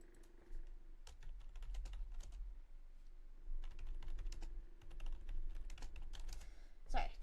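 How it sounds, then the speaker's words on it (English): Someone types on a computer keyboard in quick, irregular bursts of close clicks, pausing now and then, with a low hum beneath and a brief voice at the end. "Sorry, typing."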